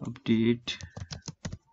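Someone types a Linux command on a computer keyboard, producing a quick run of separate key clicks mixed in with a voice speaking over the typing.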